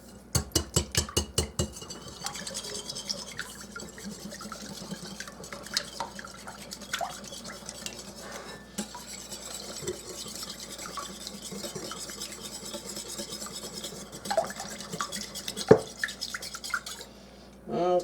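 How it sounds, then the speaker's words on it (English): Wet muffin ingredients for cherry and walnut muffins are whisked in a bowl, opening with a rapid burst of metallic clinks against the bowl, then continuing as softer, irregular stirring and tapping sounds, fairly close and quiet. "Now, we're going to whisk this together real well."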